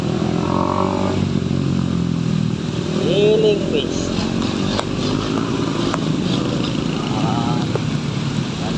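A motorcycle ridden slowly along a road at dusk, its engine droning steadily and close throughout, with someone talking over it.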